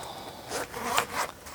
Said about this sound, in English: We'll close up my wallet